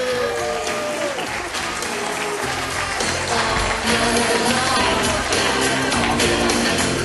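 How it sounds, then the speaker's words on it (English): Guests at a wedding at Zukas Hilltop give the flower girl a warm round of applause, a loud, sustained crowd clap over music with a few cheers mixed in. "Give her a nice round of applause."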